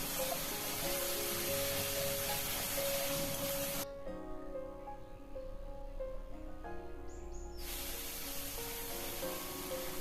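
Spices sizzle and fry in a pan for a katla fish curry, a steady close hiss that drops away briefly mid-way and then returns at full strength.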